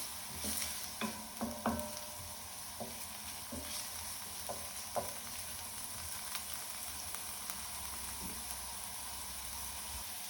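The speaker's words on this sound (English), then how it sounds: "we're just going to add garlic and onion into the pan. And give it a bit of a stir." Garlic and onion fry in a heated pan with a steady close sizzle while a utensil stirs them, scraping and knocking against the pan several times early on, then the sizzle continues alone.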